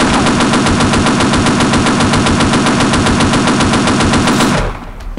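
Automatic gunfire in the video game Half-Life Uplink, a loud, continuous rapid-fire burst of closely spaced shots lasting several seconds before cutting off abruptly into a quiet room-tone tail.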